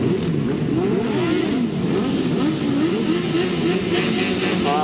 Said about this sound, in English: Well, I can see the revs going up once again for Steve Smith